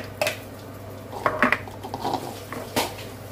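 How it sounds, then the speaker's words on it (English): Mushrooms tip into a frying pan that already held crispy bacon, giving a few clattering knocks and scrapes of metal and utensil with a soft sizzle beneath. "Now I'm going to tip the mushrooms in."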